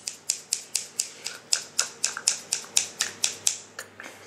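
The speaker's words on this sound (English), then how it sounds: "I got my scissors." A quick, steady run of sharp snipping clicks, about a dozen and a half, evenly spaced and close, like scissors cutting repeatedly.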